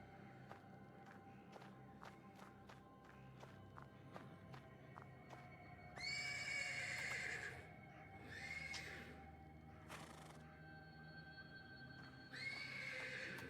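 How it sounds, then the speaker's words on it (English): Hooves clip-clop in a quick rhythm, then a horse in a video game whinnies loudly several times in long, shrill neighs from the stables, the calls repeating with short pauses between. "The persistent neighing of a horse can be heard from the stables."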